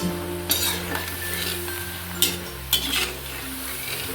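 Cauliflower chilli fries in a pan over a medium flame with a steady, close sizzle, broken by a few sharp clinks of a spoon stirring against the pan.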